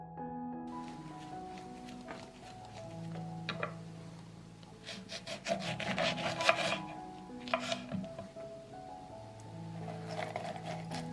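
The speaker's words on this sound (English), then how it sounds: "I will squeeze the juice from one lemon." A lemon is squeezed for juice, giving a rough, rhythmic rubbing and rasping that swells and fades over several seconds, close and moderately loud over quiet background music.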